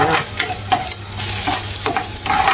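Garlic and onion sauté quickly in a hot pan, a loud close sizzle broken by repeated brisk scrapes and clatters of a spatula stirring, with no talking.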